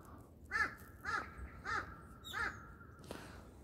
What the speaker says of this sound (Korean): 그러니까 까마귀가 또 들어왔는데.